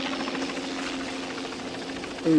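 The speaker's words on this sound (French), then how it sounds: "C'est sans doute votre hélicoptère," A helicopter's steady rotor drone and engine hum fill the scene at moderate distance, with a brief tonal whine rising near the end.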